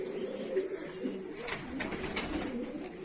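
Kanat posta pigeons coo close by in a low, continuous murmur, with a few faint higher chirps mixed in and no talking.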